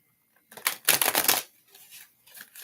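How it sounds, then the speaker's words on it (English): Tarot cards riffle-shuffled at close range in a burst of dense papery flutter lasting about a second, followed by softer scattered card taps and slides. "I'm going to do one last shuffle."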